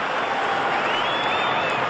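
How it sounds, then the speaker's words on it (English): Cricket crowd cheering and applauding during David Hookes' batting against Clive Lloyd's side, a steady dense roar of claps and voices filling the whole moment, with faint whistle-like cries rising above it. "The crowd loving every minute of this contest."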